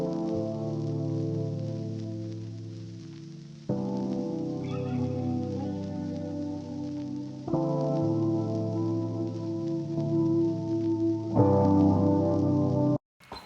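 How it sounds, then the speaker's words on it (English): A looped guitar sample plays sustained chords in blocks, switching chords every few seconds, with no talking, then stops abruptly. "I just have this little R&B guitar sample."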